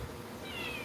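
A cat gives one short, soft meow, fairly close but quiet, under a faint background hiss.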